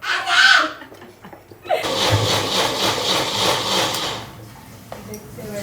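Blender whirring through amla, beetroot, ginger, raw turmeric and curry leaves for juice, a steady loud grinding buzz for a few seconds after someone speaks, then winding down.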